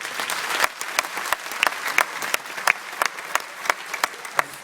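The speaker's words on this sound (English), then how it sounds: "I'd ask that they be given a round of applause" Scattered applause at a citizenship ceremony at the Dublin Convention Centre, with sharp individual claps ringing out in an uneven rhythm rather than a dense wash, loud and close.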